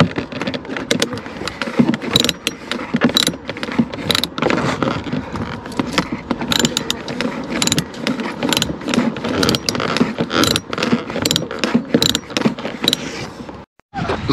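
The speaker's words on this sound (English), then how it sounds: "Break it free with the ratchet." A ratchet breaking a fastener free under a Corvette dashboard, rapid continuous clicking over many seconds with small metallic rattles, close and loud, ending with a brief pause.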